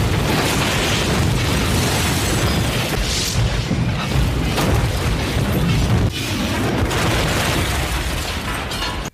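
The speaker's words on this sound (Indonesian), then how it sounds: "Tembak-tembakan pun dimulai sampai akhirnya Nishi pun nembak temen Kei tadi." Loud, dense bursts of gunfire and booming impacts fill the whole stretch, chaotic and continuous like a cinematic firefight.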